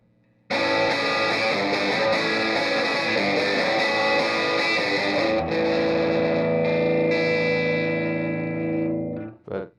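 An electric guitar rings out through a slightly gritty, overdriven amp, with sustained chords filling several seconds before fading and stopping abruptly.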